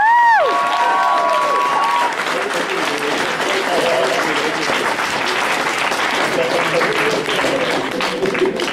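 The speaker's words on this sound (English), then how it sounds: "Can I get a round of applause for our lovely players?" A convention crowd at a celebrity Dungeons & Dragons game breaks into sustained, loud applause and cheering for the players, a dense wash of clapping that carries on steadily to the end, with a brief whistle-like tone at the start.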